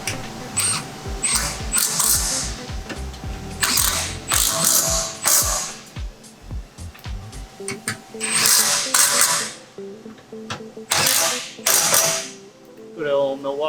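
A ratchet clicks in repeated bursts while tightening sway bar bolts on a Tesla Model 3, close and loud, with metallic mechanism creaks between strokes and no talking.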